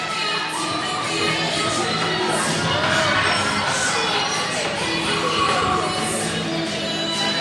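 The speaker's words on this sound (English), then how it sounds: "Pretty good crowd here, especially on the home side." A crowd at a high school varsity hockey game on senior day produces a continuous roar of cheering and shouting, loud and steady, with higher voices of children mixed into the din.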